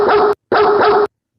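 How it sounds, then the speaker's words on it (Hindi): A village dog gives two loud, close barks, each a drawn-out woof, separated by a short pause, with no other sound around them. "ये कौन सा नया कुत्ता आ गया है गांव में? रोज भौंकते रहता है।"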